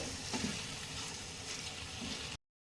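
Spiced mutton is stirred in a hot pan, giving a continuous close sizzle with soft scraping strokes of the spoon. The sound holds at a moderate level and then cuts off abruptly.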